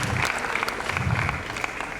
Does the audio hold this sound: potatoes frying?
no